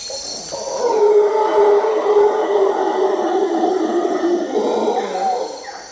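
A voice imitates a howler monkey's howl, a long, loud, sustained hooting wail with a rising start that holds steady for several seconds before trailing off, close and alone.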